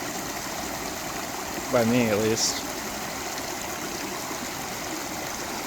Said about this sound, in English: we're down here by this little waterfall